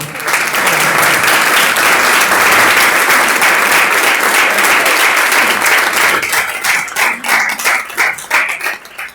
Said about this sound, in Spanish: se lo vamos a demostrar con este fuerte aplauso que le vamos a dar